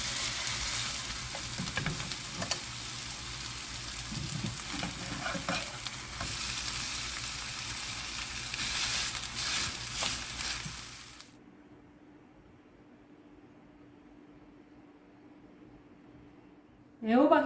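Zucchini pancakes fry in oil in a pan with a loud, steady sizzle for about eleven seconds, then the sizzling cuts off to a faint low hum, with a brief clatter at the very end.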